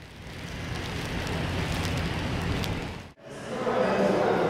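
Rain falls steadily outside Centre Block of the Canadian Parliament in Ottawa, a dense even hiss that drops out briefly before returning louder.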